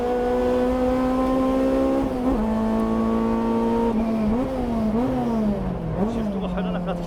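Race cars including a Honda S2000 and other VTEC machines battling on a dry circuit, a loud high engine drone with shifts and dips in revs as the cars pass, with a commentator talking over it.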